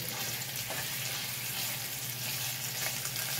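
Floured beef chunks brown in a hot pan for braised beef with potatoes and carrots, giving a steady, fairly faint crackling sizzle with no talk.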